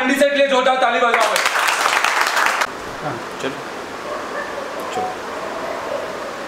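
Students in a mobile phone repair training class clap together in a short, loud burst of about a second and a half after a voice speaks, then the sound cuts abruptly to low background hiss.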